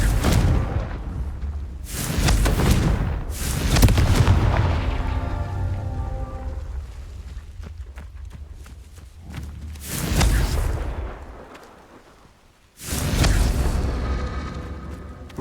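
Confringo fire spell blasts bursting in the video game Hogwarts Legacy, several loud explosive whooshes spaced a few seconds apart with crackling decay between them.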